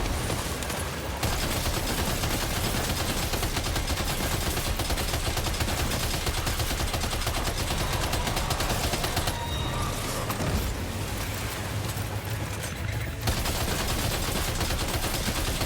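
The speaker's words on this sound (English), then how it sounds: "Damn, this machine gun is really good." Machine gun fire in the video game Death Stranding 2: dense, loud, continuous bursts of automatic gunfire that fill the whole stretch, with a couple of short breaks and no voices.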